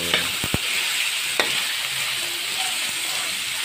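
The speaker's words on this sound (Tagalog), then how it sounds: "na stir fry na natin yung pork." Pork being stir-fried in a pan for laing, with a steady broadband sizzle and a few sharp scraping clicks of the utensil against the pan, close and alone with no talk.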